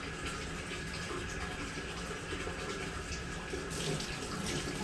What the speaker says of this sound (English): I try to keep rinsing in here.